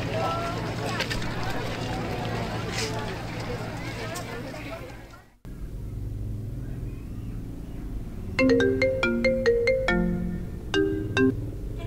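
Outdoors a mobile phone rings with a bright, repeating electronic tone that begins after a stretch of steady background noise and people talking, the ringtone sounding in short bursts near the end.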